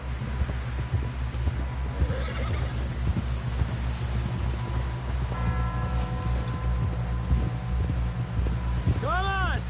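Horse hooves clopping at a steady pace in a Red Dead Redemption 2 scene, with a whinny near the end and people talking over the hoofbeats.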